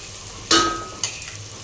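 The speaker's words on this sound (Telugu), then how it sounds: "సిమ్లో పెట్టుకొని ఇట్లా కదిలించుకుంటా ఫ్రై అయితే చేసుకోవాలి మసాలా" Masala with added coconut paste fries in a pan on low heat, giving a steady close sizzle broken by a sharp scraping stir and a second, softer scrape.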